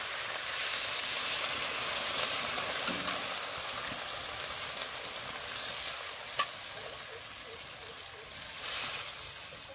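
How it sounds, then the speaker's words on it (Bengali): Rohu fish curry with Malabar spinach sizzling and frying steadily in a pan, with a soft stir at one point and a brief sharper splash or clatter midway, continuous hiss throughout. "এইবার জল দিয়ে দেব।"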